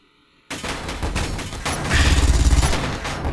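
Rapid automatic turret fire from a Space Engineers game battle, a dense sustained fusillade of shots that begins abruptly and grows heavier and louder toward the end.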